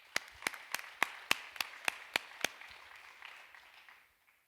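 A short run of sharp, evenly spaced handclaps from an audience welcoming a guest at a seaside interview event, about nine crisp claps that soften and trail off into quiet.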